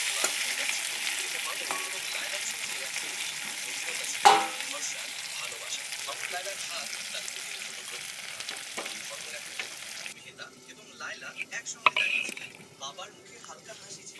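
Potatoes frying in a pan as they are stirred, a steady soft sizzle with occasional scraping clinks of a utensil, quieting later to a faint crackle with a few sharp taps.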